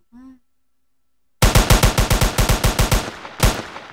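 Rapid bursts of assault-rifle fire in a shooting video game: about a dozen loud, close shots in quick rhythm, a short pause, then one more shot, following a brief vocal sound and a second of silence.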